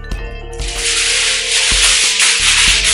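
Aluminum foil being spread across a kitchen counter, with loud close crinkling and rustling sheets scraped and smoothed down, with a few sharp crackles over a continuous rough rub.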